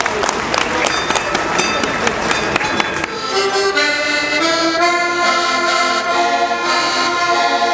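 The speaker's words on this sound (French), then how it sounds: "Tous nos applaudissements." An audience applauds at a cattle show in the Massif Central, honouring a Tarentaise cow from Ardèche. Dense, steady clapping comes first, then fades into upbeat music.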